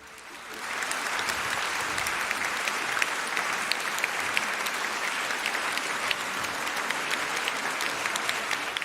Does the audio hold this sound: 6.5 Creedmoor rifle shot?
no